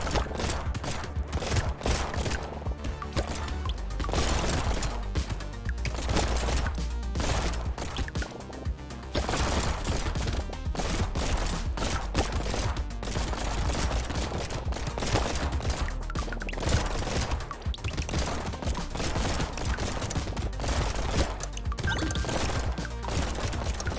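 Relentless minigun and SMG fire in the arena shooter Brotato, a loud, dense stream of rapid shots and hits with no gaps, layered over game music for the whole stretch.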